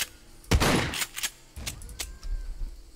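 A few sharp gunshots from the video game SCUM crack out in quick succession, loud and close, separated by short pauses, with faint background noise between bursts.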